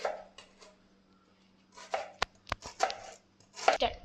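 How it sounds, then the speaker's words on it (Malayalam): Onions are chopped with a knife on a board in a home kitchen, giving sharp, irregular clusters of close thuds and taps separated by brief pauses. "നമ്മളിപ്പോൾ അതാ ഉള്ളി അരിയാണ്"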